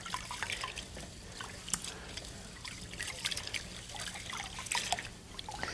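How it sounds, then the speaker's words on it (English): Uncooked rice being rubbed between the palms and rinsed in a bowl of water for Indian-style cooking, giving close, quiet trickles, drips and small splashes that come in irregular bursts. "rub the rice like this between your palms to get out all that grit, and you'll notice that the water goes cloudy"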